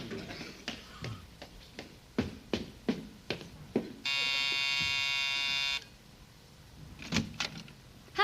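A steady electric buzz from a radio show sound effect of a car motor left running, holding for about two seconds after a series of sharp door and footstep knocks and taps.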